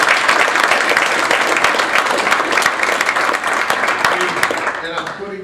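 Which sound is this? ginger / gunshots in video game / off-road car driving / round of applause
round of applause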